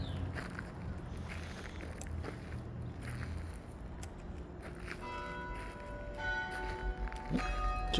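Old church bells ring in historic Charleston, South Carolina, with tolls growing clearer toward the end over a steady bed of outdoor ambient noise and wind.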